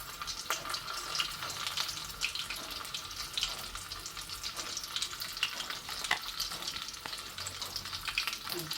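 Breaded chicken drumsticks fry in hot oil with a continuous crackling sizzle and scattered sharper pops, close and steady throughout.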